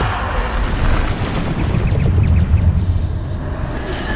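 Bombarda explosion spells in a Harry Potter video game set off a loud, continuous rumbling roar of blasts, with deep booms rolling together and no pauses between them.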